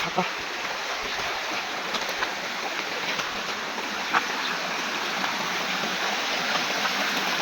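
Steady rushing of a monsoon stream in the Konkan region, broadband and continuous throughout, with faint voices occasionally underneath.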